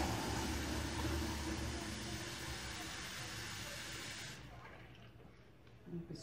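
Water pours steadily into a cooking pot for soup, a loud rushing stream that fades and stops near the end, followed by quiet background noise.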